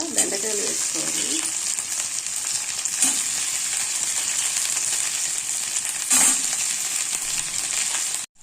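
Okra frying with onions in a pan, producing a steady, bright sizzle throughout, broken by a few clinks of stirring.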